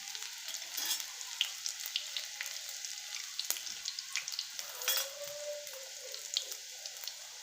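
Steady crackling sizzle of garlic hitting hot oil with cumin and mustard seeds, with scattered sharp pops and spits throughout, close and continuous with no talking.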